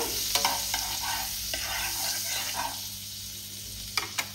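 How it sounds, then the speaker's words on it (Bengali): White oil and a little butter heat in a wok, giving a faint, steady sizzling hiss with a few soft clinks and scrapes, close and quiet, with no speech. "কড়াইয়ে দিয়েছি চাপিয়ে, তার মধ্যে দিয়েছি সামান্য পরিমাণ সাদা তেল আর দিলাম একটু বাটার।"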